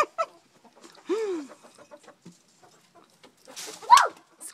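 Chickens on a farm cluck in short, scattered calls while being fed, with a couple of louder squawks standing out near and clear against quiet gaps.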